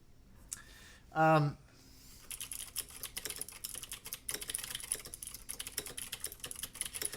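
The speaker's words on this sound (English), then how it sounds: "So these are clicky switches." Fast clicky typing on a mechanical keyboard with clicky switches, a steady rattle of sharp key clicks following a brief tonal sound at the start.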